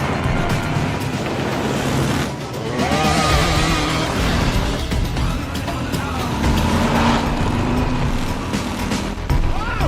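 Car chase in The Misfits, with a getaway car driven through the streets and a pursuing vehicle, heard as a steady roar of engines and road noise mixed with dramatic film sound throughout.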